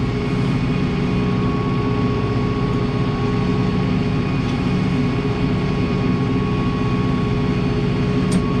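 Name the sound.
tractor engine revving to 540 PTO for hedgecutter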